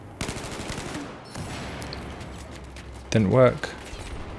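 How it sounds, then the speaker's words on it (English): Machine gun fire in the Battlefield 4 video game, rapid bursts crackling through a noisy battlefield mix, with someone talking over the shooting. "We got a machine gunner in there as well."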